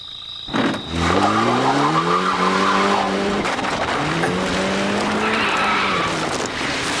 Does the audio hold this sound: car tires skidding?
yes